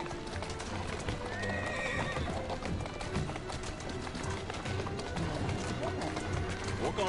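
Horse hooves clip-clop steadily in a video game while a horse neighs, the game sounds running continuously under a person talking.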